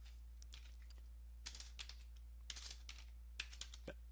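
Keys tapped on a Toshiba computer keyboard while entering a command, a few quiet clustered clicks in short bursts separated by pauses, close by and faint over a steady low hum.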